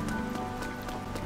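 Rain pattering in Zelda: Tears of the Kingdom, a brief soft spatter of game rainfall with faint rhythmic tapping over a low steady backdrop.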